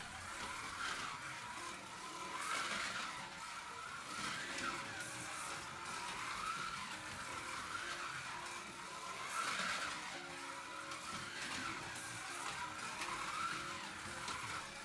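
A cheap Policar slot car runs laps on a track, its small motor and gears whining steadily with rhythmic rises as it passes close and falls away again, with no talk.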